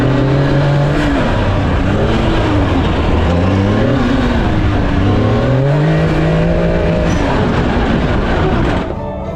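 A new CFMOTO Z10 side-by-side is driven hard, its engine loud and close, the pitch sweeping up and down with repeated revving and gear changes over constant rumble and wind.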